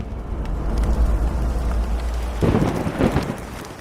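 Rain pours steadily in a Bengali horror cartoon while a deep thunder rumble builds underneath and then swells into a louder crash near the end, with no voices.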